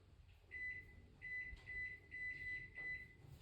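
A home microwave timer being set, giving a string of short, faint electronic beeps, some single and some in quick pairs, over quiet room noise.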